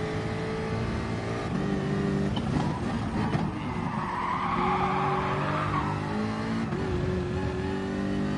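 In a racing game time trial, a car loses its rear end and skids with screeching tires over a revving engine, the squeal swelling and fading over several seconds.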